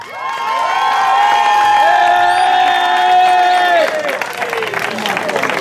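Home crowd at the Enduro Pollino Escape in Castrovillari cheering enduro rider Marco Raele, a loud sustained roar of shouts and whoops with chanting voices, then fading into scattered applause and clapping.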